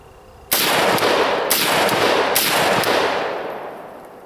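An AK-47 rifle fires loud, close shots right after a sand test. There is one sharp blast, then about three more spaced roughly a second apart, each trailing into a long echoing decay.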